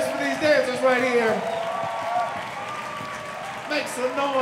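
An audience applauds and cheers at a Lindy Hop solo jazz and Charleston finals, a steady clapping wash that rises and falls. A loud announcer's voice talks over it the whole time.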